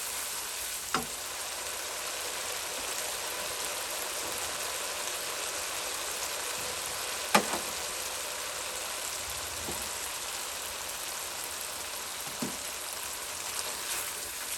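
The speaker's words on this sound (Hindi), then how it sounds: "मसाला हमारा भुन रहा है।" Masala of turmeric and red chili powder fries in a pan for tinda sabzi, giving a steady, hissing sizzle. A few soft clicks of a spoon against the pan break in, and no one talks.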